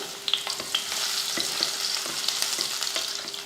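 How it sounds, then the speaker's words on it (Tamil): Five crushed garlic cloves fry in hot oil for a potato stir-fry, making a steady, close sizzle with light crackles and occasional stirring clicks, and no talking. "உருளைக்கிழங்கு வறுவலுக்கு எண்ணெய் எண்ணெய் காஞ்சதுமே ஒரு அஞ்சு பூண்டு எடுத்து இந்த மாதிரி தட்டியிருக்கேன் சேர்த்துக்கலாம்"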